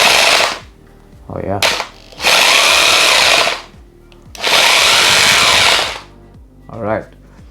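A corded Yiking 1100W rotary hammer runs in loud bursts of harsh, rattling hammering, two long runs separated by pauses, with a brief voice reacting in between.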